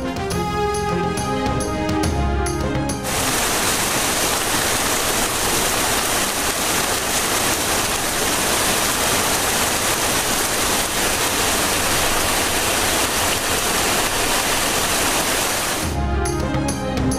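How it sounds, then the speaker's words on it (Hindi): Heavy rain pours over a city in Gujranwala, Pakistan, as a loud, dense, continuous wash of noise. Brief musical sound comes before it and after it. "गुजरांवाला शहर और गिरदोनवा में बारिश।"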